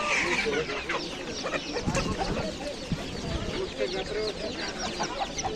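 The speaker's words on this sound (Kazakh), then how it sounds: "Домашние цыплята, да?" Domestic chickens cluck busily and close at hand at a poultry market in Bishkek, with overlapping clucks and squawks amid murmuring background voices.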